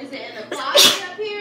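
A single sharp sneeze bursts out indoors in a kitchen, loud and close, with people talking just before and after it.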